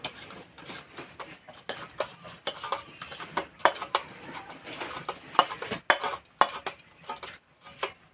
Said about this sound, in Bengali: আবারও সব মিশিয়ে নেবে এইভাবে।